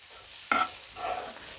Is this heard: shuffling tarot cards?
no